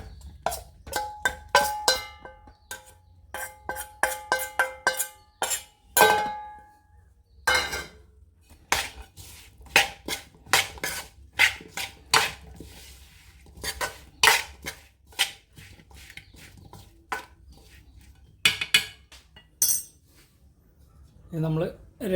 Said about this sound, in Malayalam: അത് മിക്സ് ചെയ്ത് കൊടുക്കാം.